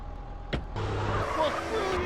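A car in Grand Theft Auto: San Andreas starts driving, its engine rising to a steady loud rumble after a brief click, with speech mixed in.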